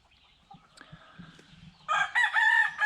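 A Belgian Giant Liege fighter rooster lets out a loud, close, drawn-out crow near the end, after some soft clucks and faint background chatter from other birds.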